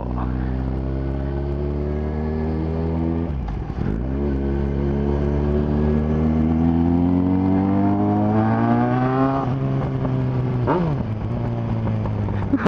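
A Yamaha XJ6N inline-four motorcycle engine accelerates through the gears, rising in pitch in long smooth sweeps that drop sharply at each shift, loud and close throughout.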